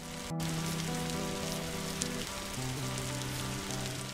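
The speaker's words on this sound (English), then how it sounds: "let's just get out of the rain" Rain in the video game Block Story, a steady hissing patter at moderate level with tonal game music running beneath it, no voices.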